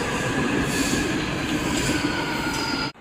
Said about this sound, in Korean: 인천 1호선 132편성 열차, 오늘 저 데려다줘서 고마워요